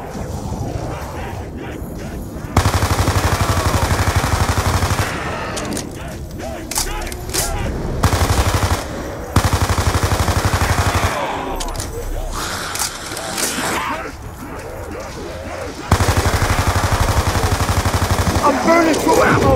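Rapid automatic gunfire from Black Ops 2 Zombies in a prison map, loud bursts of shots with short pauses between them and voices talking over parts of the action.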